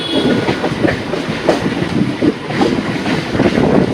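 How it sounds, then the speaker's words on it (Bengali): Kolkata Chakra Rail train arriving at a station near the Hooghly bridge, loud continuous rolling rumble and clatter of wheels on track, close by and steady, with wind buffeting the microphone. "এই যে ট্রেন আমার ঢুকছে, ট্রেন সেট দেখতে পাচ্ছ"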